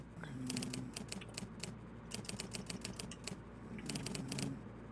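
Fingers type on a computer keyboard in quick bursts of close, crisp clicks, pausing briefly between words, over a low background hum.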